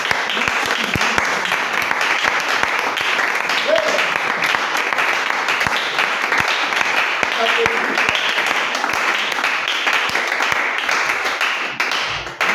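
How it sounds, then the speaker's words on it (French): A church congregation applauding during a sermon, steady sustained clapping from many hands filling the room for over twelve seconds, with a voice faintly heard beneath. "Tu peux acclamer la parole, frère."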